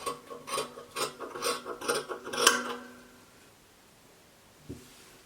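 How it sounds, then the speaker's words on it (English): Scissors cut fabric for a dress neckline in a series of about eight rhythmic rasping snips, close and clear, followed by quiet and a single soft knock. "So I'm going to cut out the front neckline."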